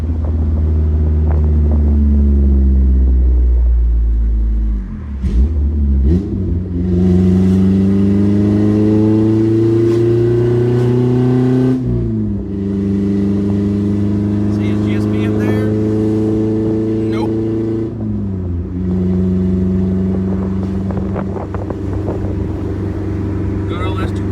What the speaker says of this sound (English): we went out for a ride in the S2K for a little while